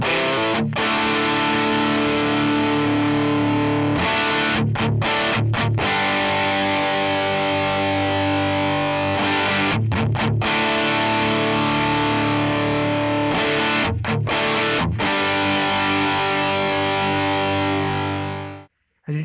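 Distorted electric guitar played through a Zoom G5n multi-effects unit with an equalizer pedal, ringing chords strummed loud and alone with brief gaps between phrases before cutting off at the end.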